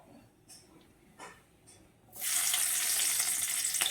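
Water is poured into a hot pan of cauliflower leaves tempered with nigella seeds and crushed garlic: a few faint clinks, then a loud, steady rushing splash that fills the second half.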